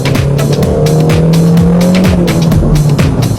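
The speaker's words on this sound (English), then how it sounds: "the 84 horsepower engine does pull well. But Lord, is it noisy." The noisy 84 horsepower engine of a Rover CityRover whines loudly and continuously while driving, its pitch climbing and dropping with gear changes, with some tyre squeal.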